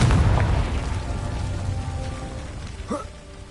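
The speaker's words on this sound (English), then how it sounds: "Confringo." A Confringo explosive spell goes off in the video game Hogwarts Legacy: a loud, booming blast at the start that rumbles and slowly decays, with a brighter magical crackle near the end.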